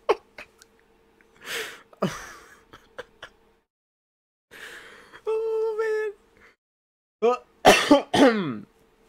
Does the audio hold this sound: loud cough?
yes